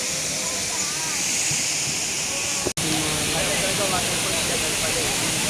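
Waterfall at Hinulugang Taktak, a continuous loud rushing roar of falling water with faint voices mixed underneath.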